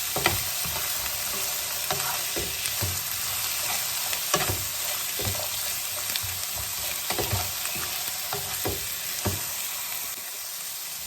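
A spoon scrapes and turns ivy gourd with turmeric and salt in a pan, cooked without oil, with regular knocking strokes over a constant hiss of frying, close up and with no voices.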